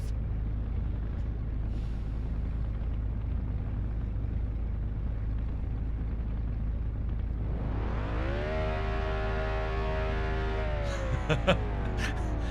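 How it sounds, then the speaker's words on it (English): In the video game Test Drive Unlimited 2, a steady low car engine rumble drones on, then rises into a climbing rev with stacked harmonics that holds high, ending with a few sharp clicks. "Oh, your car sounds lovely."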